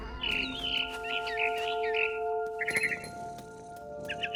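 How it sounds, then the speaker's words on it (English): Barn swallow chirping outside a window in the game What Remains of Edith Finch: a run of quick bright twittering calls over a soft steady tonal hum, then a few more short chirp bursts. "Then I heard chirping outside my window. It was a barn swallow going back to her nest."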